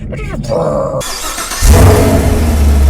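A 2021 Chevrolet Camaro LT1 fires up on a cold start and settles into a loud, deep exhaust rumble, preceded by brief chatter and clicks before the startup.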